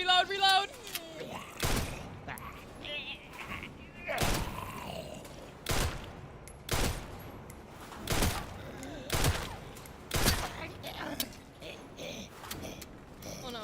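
In Resident Evil Requiem, loud gunshots ring out one at a time at spaced, irregular intervals, each a sharp crack with a short tail, over a quiet backdrop with faint mechanical creaks.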